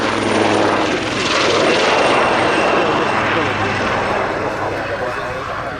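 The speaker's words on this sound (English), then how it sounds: "A pair of Garrett T76 turboprops of some 715 shaft horsepower each." Loud twin turboprop aircraft with Garrett T76 engines drone overhead at Yeovilton International Air Day 2016, swelling and then slowly fading, with a commentator's voice running underneath.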